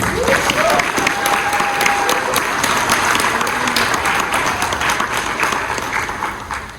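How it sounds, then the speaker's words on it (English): Dense, steady applause from a large panel audience at San Diego Comic-Con 2024, filling the room close and loud with a faint whistle near the start, tapering slightly toward the end. "So let's give them a round of applause."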